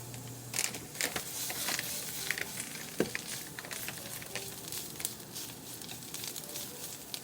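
Pickled daikon radish stir-fries in sesame oil with a continuous sizzle and frequent scraping, stirring clicks from a pan, moderately close.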